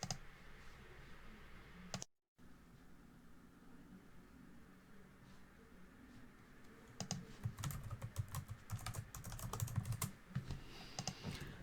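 Typing on a computer keyboard while writing a book review: quiet clicking keystrokes, sparse at first, then quicker bursts of tapping toward the end over a low background hiss.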